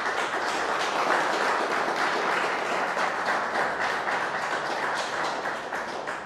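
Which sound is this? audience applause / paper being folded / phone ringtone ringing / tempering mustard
audience applause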